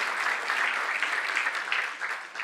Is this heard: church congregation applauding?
yes